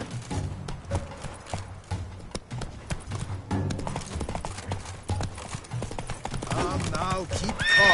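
Roach, Geralt's horse in The Witcher 3: Blood and Wine, gallops in a steady run of loud, close clip-clop hoofbeats, with a whinny-like rise near the end over the game's background sounds.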